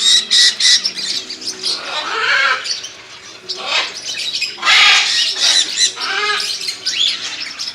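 Parrots and cockatiels in a bird shop squawk and screech loudly in repeated overlapping bursts close by, with shrill chirps filling the gaps and no pause in the racket.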